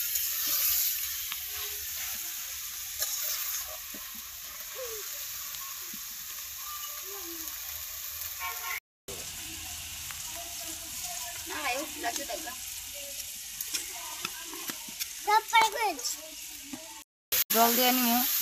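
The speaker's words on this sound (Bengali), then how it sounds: "আস্তে আস্তে মশলা অনেক কষা নিতে আনাজটি কষাই নিতেছি।" Vegetables sizzling and frying with spices in a pan during home cooking, a steady low crackle with occasional stirring scrapes and a short break, while someone talks quietly over it.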